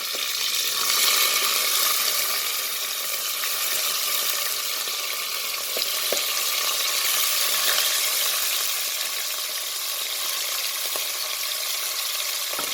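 Vegetables for a veg biryani fry in a pan with a steady, dense sizzle that stays close and fairly loud throughout, with faint occasional clicks of stirring.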